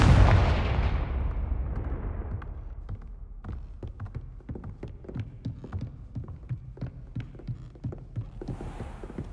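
A Confringo blasting spell in Hogwarts Legacy goes off as a loud booming explosion that slowly fades out, and a series of sharp crackling impacts follows at an uneven pace, with no talk over it.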